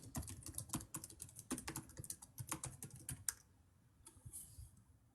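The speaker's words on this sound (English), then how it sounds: "I'm gonna type in something real quick." Rapid clatter of keystrokes on a computer keyboard, close and fairly loud, in quick uneven bursts with a brief pause near the end before a few more taps; no talking.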